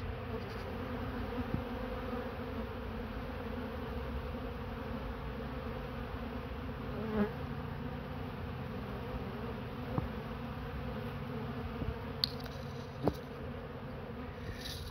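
Honey bees swarm and fight at a hive entrance during robbing in a bee garden in August, a dense steady buzzing drone throughout, close and fairly loud, with a few faint clicks and no voices.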